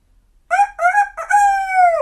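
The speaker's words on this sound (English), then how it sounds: "Listen for that rooster." A rooster crows once up close, a loud clear call of three rising syllables followed by a long drawn-out final note, alone against silence.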